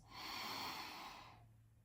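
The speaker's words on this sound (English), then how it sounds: "taking a big, deep breath in through the nose" A single slow, deep inhale through the nose, close and soft, swelling for about a second and then fading to quiet, with no talking over it.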